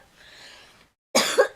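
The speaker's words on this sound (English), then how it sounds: "I'm going to start to cough." A person coughs twice, close and fairly loud, in quick bursts after a short silence, with faint breathy background noise beforehand.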